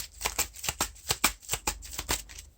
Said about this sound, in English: So we shuffle these cards